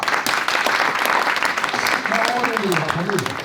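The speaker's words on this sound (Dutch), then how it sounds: "Applaus voor Alice." An audience applauds during a Bildt culture prize ceremony, dense clapping throughout with cheering voices rising near the end, loud and sustained.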